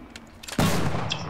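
Gunfire in the World War II shooter Enlisted: after faint distant shots, a sharp close weapon blast rings out and tails off into a rumbling echo, with no voices over it.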